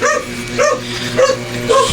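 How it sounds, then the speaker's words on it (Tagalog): A dog barks repeatedly at a steady pace, about four sharp yelps over a constant low hum, fairly loud and close. "shout out sa kapitbahay naming aso"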